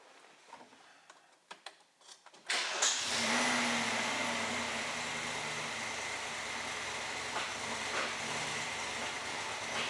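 A BMW car engine cranks and catches after a few faint clicks and knocks, then settles into a steady, fairly quiet idle hum that carries on unchanged to the end.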